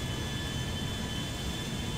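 Large Air France airliner engines in GTA with a pilot mod, a constant, dense jet roar with a deep low-end drone and faint high whine, unbroken throughout.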